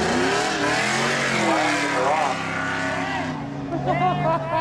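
Race cars, including a Camaro and a Volkswagen Passat, roar at Seekonk Speedway during spectator drag racing, with a loud steady engine drone and pitch sweeps as they accelerate, under continuous commentary.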